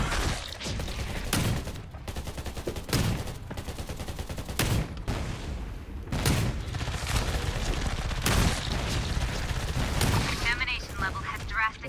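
Rapid gunfire in the shooter game Undawn, with repeated loud volleys and bursts crackling across twelve seconds as a voice talks over the shooting.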